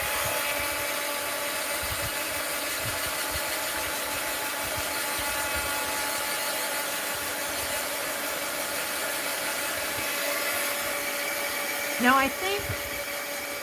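A handheld dryer blows a steady, loud, continuous whoosh over wet paint on a mixed-media art journal page, running throughout with a brief rattle near the end and a few words spoken faintly underneath.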